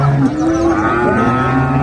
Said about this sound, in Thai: ตรงนี้ควายตลาดควายอยู่ตลาด